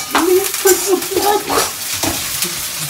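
A curry cooks in a pan and is stirred repeatedly, scraping and sizzling close by in a steady frying hiss with rhythmic stirring strokes, no talking.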